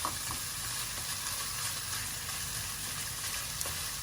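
Peas stirred through pasta in a frying pan, giving a steady, close sizzle and frying hiss with light stirring movement throughout.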